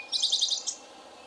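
A tricolored bird sings a run of high, bright trilled chirps in quick bursts for about half a second, then one more short note before fading; close and clear over a faint background hiss.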